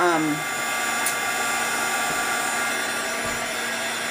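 A heat gun blows hot air over a mixed media background, a loud, steady whooshing whine running throughout at close range, alone without talk.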